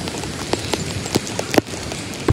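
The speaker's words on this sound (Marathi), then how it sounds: "एवढा खतरनाक पाऊस आणते येतोय ना. सकाळपासूनच एवढा पाऊस आहे भयंकर लगे." Heavy monsoon rain on a trek to Harihar Fort, heard as a steady dense wash of noise with a few sharper splashes and knocks scattered through it.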